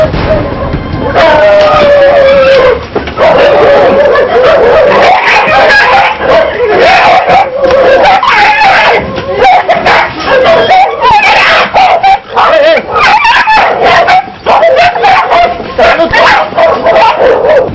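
Many dogs bark and yelp at once, loud and close, with high whining cries and a rooster-like call mixed into the constant noisy clamor.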